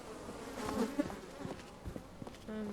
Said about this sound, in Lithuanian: Ir musės skraido.